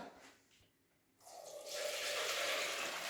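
Boiled dried beans being drained through a strainer in a home kitchen, a steady rushing pour of water that starts after a quiet moment and keeps going loud and close.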